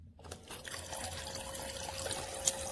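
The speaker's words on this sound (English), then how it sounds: "this is a battery operated pump that works as a faucet." A battery-operated pump faucet on a toy play sink runs water, a soft continuous trickle and splash into the basin with a faint motor hum, quiet and close with no talk.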